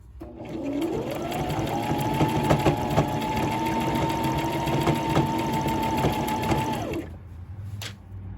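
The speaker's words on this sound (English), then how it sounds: "I'm actually going to finish this up on my serger" A serger finishing a seam on a jogger set runs loud and steady for about six seconds, a rapid mechanical whirr rising at the start and cutting off abruptly near the end.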